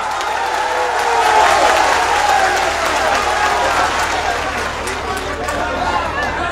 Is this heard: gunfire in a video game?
no